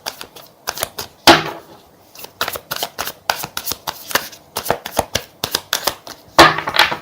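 Tarot cards are shuffled and drawn in quick, close riffling bursts and crisp slaps, with a few longer riffles standing out, without speech.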